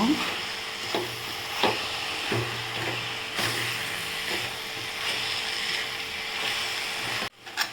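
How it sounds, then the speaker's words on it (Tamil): Siru keerai greens sauté in a hot pan for chutney, with a steady loud sizzle broken by repeated scraping strokes of a stirring spoon and a brief dip near the end. "சேர்த்து நல்லா வதக்கிக்கோங்க"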